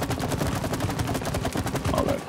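Rapid gunfire from the co-op video game It Takes Two fills the stretch as dense, continuous bursts of shots layered with game sounds, loud and steady throughout.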